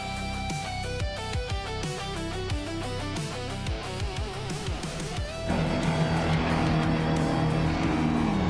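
Vintage race cars, including a 1960 Cooper T53, launch off the grid at the Sydney Homebush Street Circuit in a racing video game, engines revving and shifting over a steady music bed, swelling into a louder massed roar after five seconds.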